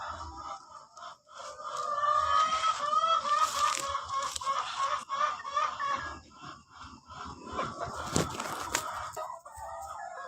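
Egg-laying hens cluck and squawk busily at close range, a dense overlapping chorus with a louder burst of clucking near the end.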